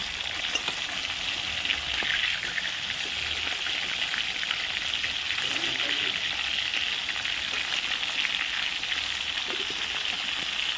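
Steady, dense sizzling and crackling of rohu fish frying in hot oil over a wood-fired stove, continuous and close throughout with no talking.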